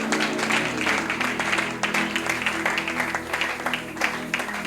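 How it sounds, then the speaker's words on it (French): A church congregation applauds loudly and steadily throughout, a dense wash of many hands clapping together under a sustained low hum, with no talking over it. "Nous acclamons très fort pour la parole du Seigneur"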